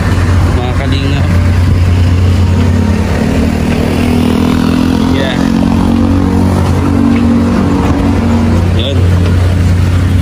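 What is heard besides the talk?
vehicle engine as passengers board and ride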